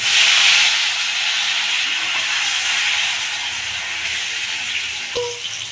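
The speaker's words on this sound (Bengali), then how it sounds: "আলুগুলোকে এবার ভেজে নেব আমি।" Boiled potatoes frying in a pan, a steady loud sizzling hiss of hot oil that runs throughout and eases slightly over time, with a brief clink near the end.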